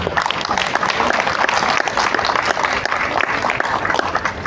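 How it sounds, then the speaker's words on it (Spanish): An auditorium audience at a book fair presentation of new Populibros claps steadily throughout, a dense, even wash of many hands with no voices standing out. "Fuerte aplauso, por favor."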